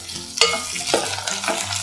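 Vegetables with frozen peas are stirred in a hot pan for rava upma, a spatula scraping in a few distinct strokes over a steady close sizzle, with no talk.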